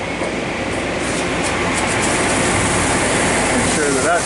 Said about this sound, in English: At which point I can turn on my coolant, on my dress coolant.